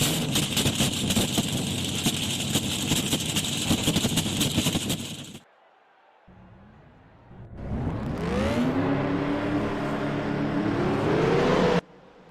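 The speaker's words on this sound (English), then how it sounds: "Drivers, start your engines!" Race car engines from the NR2003 racing game roar loudly at a steady idle, then cut out briefly before restarting and revving up with rising pitch into a sustained loud drone.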